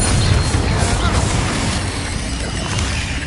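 Confringo fire spell explosions in the video game Hogwarts Legacy, a loud, dense barrage of booms and crackling bursts that runs without a break for several seconds.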